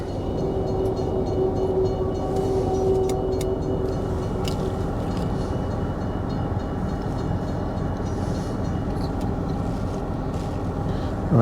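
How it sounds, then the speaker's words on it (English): A train rolls through a level crossing on the road to Midland in Perth, heard from inside a waiting car as a steady, fairly distant rumble with a faint tonal ring from the crossing, continuous throughout. "There's a train through the level crossing."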